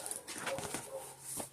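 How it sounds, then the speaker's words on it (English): Several dogs outdoors give a few short, scattered barks and whimpers at moderate distance over quiet ambient noise, with a faint bird chirping high in the background. "There go the dogs."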